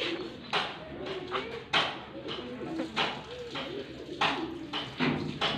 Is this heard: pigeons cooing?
yes